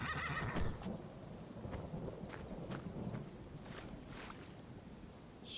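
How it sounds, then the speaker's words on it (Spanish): The black horse Shadowmere whinnies in the video game Skyrim, a short neigh heard over a background of rain and rumbling thunder. "Hostia, que apareció un caballo"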